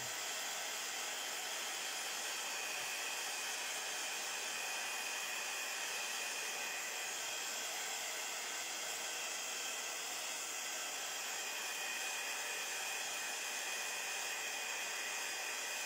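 A hair dryer blows steadily on a craft project, a loud, unbroken airy whoosh close by for the whole stretch, with no talking.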